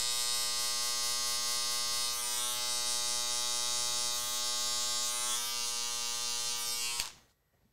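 An electric hair clipper buzzes with a loud, steady, close-up drone during a barbering session, holding constant for about seven seconds before abruptly switching off.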